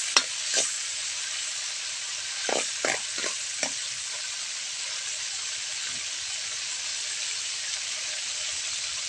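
Garlic sizzles in a hot pan in a home kitchen, a steady fine hiss punctuated by a few sharp spatula clinks and stirs near the start, close and fairly quiet.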